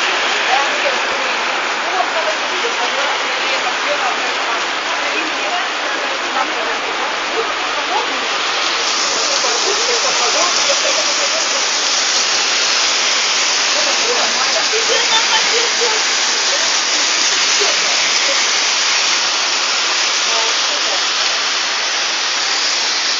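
Heavy rain pours steadily during a hurricane in Berdsk, a dense, continuous roar of water close by that grows stronger partway through.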